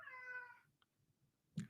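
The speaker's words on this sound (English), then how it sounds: "cat." A cat gives one drawn-out meow up close, followed by quiet, a faint click and a short thump at the end.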